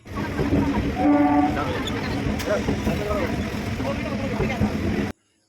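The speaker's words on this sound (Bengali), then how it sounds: "দেখো ট্রেনটা চলছে জোরে" A passenger train moves along at speed, its steady rumbling clatter filling the sound close by, with a brief tonal whine near the start and possible indistinct voices mixed in.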